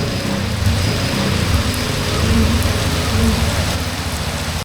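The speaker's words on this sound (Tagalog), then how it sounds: "Inabot tayo ng ulan." Heavy rain pours steadily while an Angkas motorcycle taxi rider rides, a dense, loud, continuous hiss and patter with a low rumble beneath, no talking.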